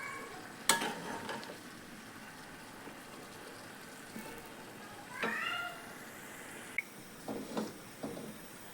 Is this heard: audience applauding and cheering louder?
no